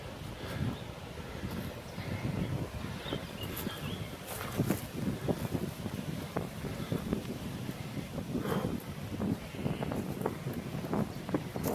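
Wind gusts hard outdoors in a wood, buffeting the microphone with rough, rumbling noise and rustling that surges and eases throughout.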